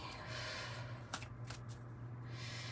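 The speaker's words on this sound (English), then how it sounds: "A little shuffle. I've already shuffled it a lot" Tarot cards being shuffled in a steady soft riffling, with a couple of sharper slaps of cards partway through, close and fairly quiet.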